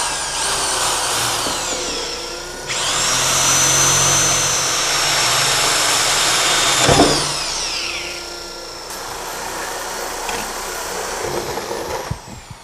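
A power drill bores holes through a bathroom vanity top for hot and cold faucet valves, its high steady whine changing pitch as the bit bites, with brief pauses and a clunk near the end.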